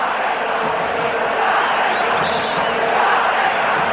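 A packed football stadium crowd roars and chants at a 1990 Brazil versus Bulgaria friendly, a dense, steady wall of cheering that stays loud throughout.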